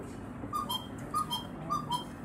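Small wooden air bellows from a little Black Forest cuckoo clock produce a higher, softer two-note cuckoo call, repeated three times in an even rhythm, close by over faint room noise.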